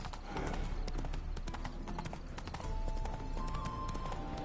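Horse hooves clip-clopping steadily in The Witcher video game, a continuous brisk rhythm of hoofbeats, close and prominent, with a faint background voice mixed in.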